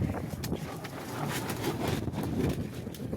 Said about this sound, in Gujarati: પવન એટલો હતો ને, મેણી અમે આડું કરી દીધું પણ તૂટી ગયું.